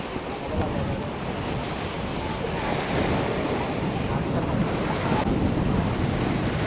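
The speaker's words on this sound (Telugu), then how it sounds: "చూడండి ఎంత ఎంత పైకి వస్తుంది అలలు" Sea waves surge and crash onto the beach at Dhanushkodi, a continuous loud wash of surf layered with gusting wind buffeting the microphone, the roar swelling slightly as each wave rolls in.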